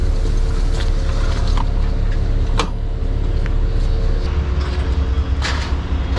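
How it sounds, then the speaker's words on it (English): A ferry pulling in, its steady low engine rumble and water noise filling the whole stretch, loud and close, with a couple of brief knocks and clanks over the drone. "Perfect, ferry's here."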